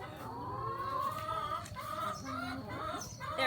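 Chickens clucking in a farmyard, a steady murmur of soft, overlapping clucks close by with no talking.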